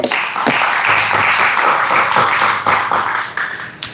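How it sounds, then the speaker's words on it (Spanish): Loud applause from a church congregation giving praise to the Lord, many hands clapping in a continuous close burst that thins slightly toward the end. "Denle un aplauso al Señor."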